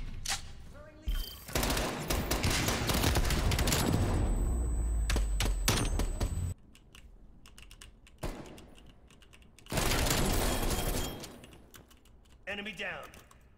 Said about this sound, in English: I want to know what MP5 in the fucking world has this much recoil.